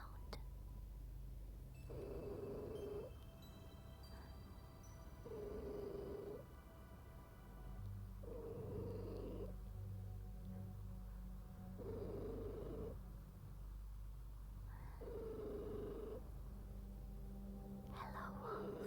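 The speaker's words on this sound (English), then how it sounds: "She had a very peculiar purring sound." A cat purrs in a steady series of bursts, each lasting about a second, with a high, unusual tone over a low rumbling background.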